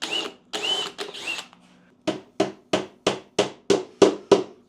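Small holes are drilled for nails in an antique wooden shelf. Three longer drill whirs come first, then after a pause eight short, evenly spaced bursts, close and fairly quiet, with no talk.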